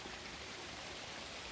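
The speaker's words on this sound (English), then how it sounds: "it's a rainy day" Rain falls outside with a steady, dense hiss of drops, continuous and even throughout, with no talking.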